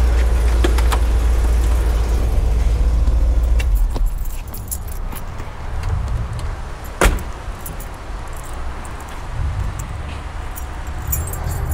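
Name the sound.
keys being taken out of a 1968 Lincoln Continental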